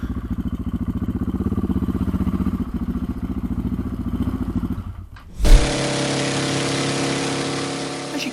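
A motorcycle engine runs on a dyno at a dyno shop, a steady pulsing drone that cuts out briefly, then returns with a sharp bark and a smoother, higher-pitched rev held to the end.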